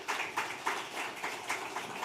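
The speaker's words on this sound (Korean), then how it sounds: "힘찬 박수, 격려의 박수, 축복의 박수 부탁합니다" A church congregation at a Sunday worship service claps for children as they go in, producing a steady rhythmic burst of applause, moderately distant with no talking.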